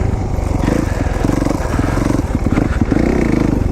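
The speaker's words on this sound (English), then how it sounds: "I am back on the KX450, and I've been riding my KTM for the last few months, working on getting this bike dialed." Kawasaki KX450 dirt bike ridden on a freshly cut off-road trail at Buckhorn OHV, its engine a loud, close, continuous rasping drone with rapid pulsing and small surges, heard alone without talk.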